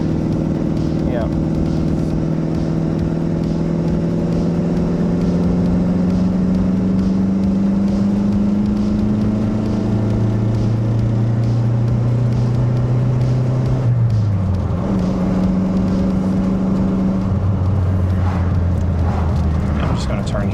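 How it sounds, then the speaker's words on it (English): An old Chrysler LeBaron engine at full throttle in third gear drones loudly and continuously, its pitch slowly climbing then dropping as gears shift, with people talking over the steady roar. "This is full throttle third gear."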